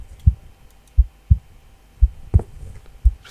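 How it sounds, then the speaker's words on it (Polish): An accelerated heartbeat effect in a horror video game, deep, muffled thumps in loose pairs repeating several times, loud and close over a faint background hum. "Przyspieszone bicie serca."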